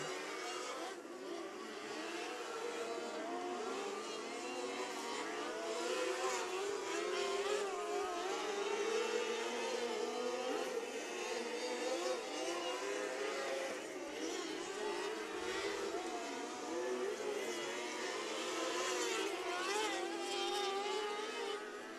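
Micro sprint race cars on hot laps at the Rush County Fairgrounds dirt track, a steady, loud blend of high-revving engines droning continuously as the group circles, with no talk.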